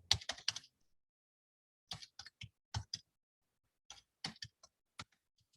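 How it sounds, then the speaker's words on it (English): A sentence typed on a computer keyboard in short clustered bursts of crisp key clicks, with quiet pauses between groups of keystrokes, close and clear with no talking. "So you're gonna type that sentence."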